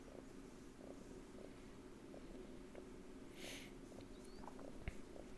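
A contented female cat purrs steadily up close, a continuous low rhythmic rumble lasting several seconds with no voices over it.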